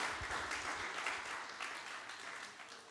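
A church congregation applauds together, a steady, dense wash of clapping that fills the space throughout without a break.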